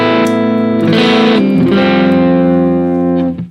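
A Marshall JVM410H amp carries electric guitar in a driven crunch tone: a held chord changes partway and sustains loudly before being cut off near the end.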